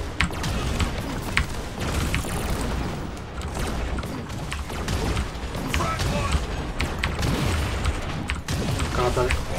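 Frag grenade explosion and gunfire in the video game Firefall, a dense continuous battle din of booms, thuds and overlapping shots at steady loudness, with a voice speaking beneath the chaos.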